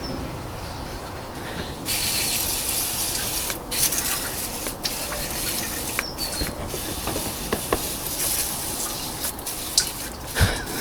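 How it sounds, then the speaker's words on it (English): Water spraying to rinse the engine area of an Audi after an oil filter change, a steady hissing patter with occasional sharper splashes and drips, close and continuous, no talk. "Now I can rinse the area a little bit more."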